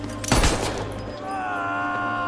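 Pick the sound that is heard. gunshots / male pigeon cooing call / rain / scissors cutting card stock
gunshots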